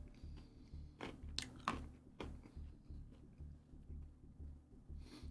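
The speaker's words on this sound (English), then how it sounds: "That one, kind of crunchy. I'm sure you could hear it." Someone bites and chews a crunchy bagel close to the mic, a run of crisp crunches followed by steady rhythmic chewing, with no talk.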